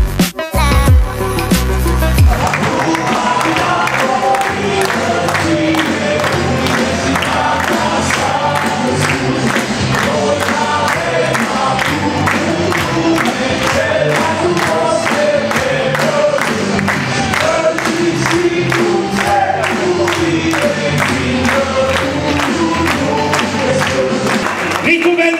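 A large arena crowd at a stand-up comedy show cheers and applauds loudly and continuously for more than twenty seconds, a dense wall of clapping and shouting.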